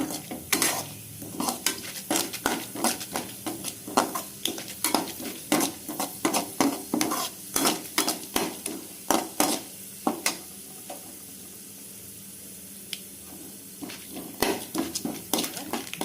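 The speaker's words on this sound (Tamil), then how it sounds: "கொஞ்சம் கடலப்பருப்பு போடுறோம் இது போட்டு இது ரோஸ்ட் ஆன உடனே" Repeated scraping and clinking of a spoon against a pan as chana dal fries with a light sizzle, stirred in uneven bursts with brief pauses.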